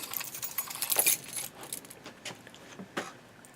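A bunch of many keys on a glued, repaired keychain jangles close by in several short metallic bursts. The loudest shake comes early, then lighter clinks follow.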